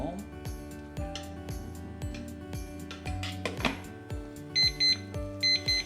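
Kitchen timer beeping beside a pot of boiling chicken feet on the stove, faint repeated electronic beeps in short clusters near the end, over low kitchen hum and clatter with speech in the background.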